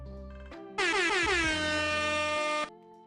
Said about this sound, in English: We're gonna do an air horn.